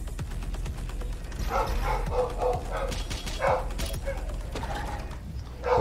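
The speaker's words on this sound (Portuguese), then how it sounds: "Cachorro louco com um caminhão do lixo, ponto MP3." A frantic dog barks in rapid, irregular bursts over a low rumbling mechanical drone like a garbage truck, with yips and whimpers mixed in, fairly close and loud throughout.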